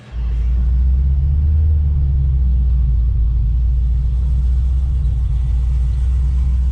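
A 2013 Cadillac CTS-V making 800 horsepower with a ported supercharger drives along, its deep engine rumble rising right after startup and staying loud and steady throughout, no speech.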